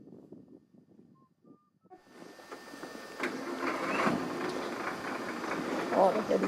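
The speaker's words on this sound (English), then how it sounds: "Oh, look at the sound of the tractors." A steady mechanical tractor engine rumble in a Thai village rises after a quiet start and holds loud and continuous, with muffled voices underneath at the beginning.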